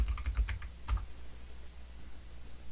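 Keys clacking on a computer keyboard during accounting software data entry, a quick burst of close, crisp taps that trails off into faint room noise.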